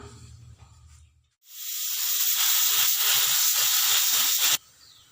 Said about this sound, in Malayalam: ഇവിടെ ഒരു 4 വിസിലോളം കുക്കർ വന്നിട്ടുണ്ട്.